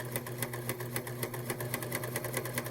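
A Huskylock 1003LCD serger runs a tri-needle coverstitch hem, its rapid mechanical whirring ticking in a steady even rhythm, close and continuous throughout.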